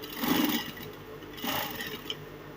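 A sewing machine stitches straight down a sleeve band on a crop top, a close, continuous mechanical hum that surges twice in brief runs with no voice over it.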